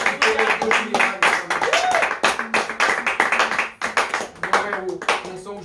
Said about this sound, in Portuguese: Aplauda ao Senhor da tua casa. Sim, aplauda.